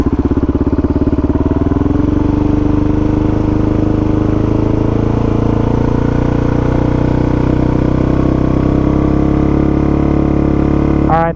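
A Suzuki DRZ400 motorcycle engine, fitted with an aftermarket exhaust, is held at raised idle. It gives a loud, steady, close drone whose pitch climbs over the first couple of seconds and then holds high, ending with a quick blip.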